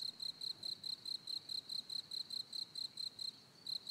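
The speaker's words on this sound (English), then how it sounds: "Crickets." Crickets chirp as a sound effect during a Dota 2 DreamLeague match broadcast, a steady, evenly spaced series of bright pulsing trills, fairly faint and alone.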